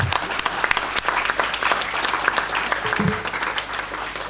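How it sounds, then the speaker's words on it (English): Audience applause at a bar association's 150th anniversary annual meeting, a steady wash of clapping that swells and holds throughout, with a low hum underneath. "let's applaud"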